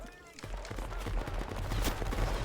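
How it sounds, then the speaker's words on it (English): Musket volleys crackle in a video game battle between Prussian and Swiss line infantry, a dense, continuous rattle of overlapping shots at mid distance. "Enfilade fire across all three Prussian lines."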